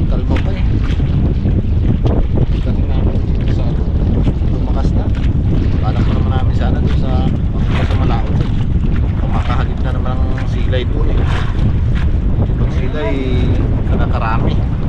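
Strong northeast monsoon wind roars across a small boat at sea, with steady loud buffeting and microphone wind rumble throughout, along with water and waves slapping the hull and brief faint voices.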